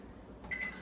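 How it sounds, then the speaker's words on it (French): A microwave oven hums quietly while heating frozen fruit for homemade popsicles, a steady low drone with a faint electronic tone near the end. "on met ça à peu près 30 secondes au micro-ondes"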